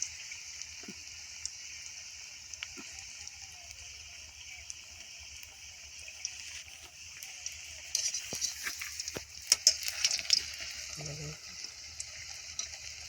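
Coriander leaf pakoras frying in hot oil, a faint steady hiss and bubbling close by, with a few louder crackles and pops toward the end.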